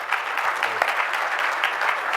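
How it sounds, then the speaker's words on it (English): A crowd claps steadily and enthusiastically for a couple of seconds, dense applause filling the room. "give yourselves a round of applause for working so hard"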